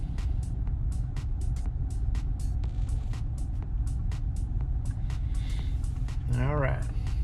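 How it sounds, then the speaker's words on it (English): A BMW 550 engine idles just after a restart with several cylinders misfiring, a steady low rumble broken by regular sharp ticking pulses, recorded close, with a brief whining sweep near the end. "after starting it, some of the cylinders are showing misfire just from the restart"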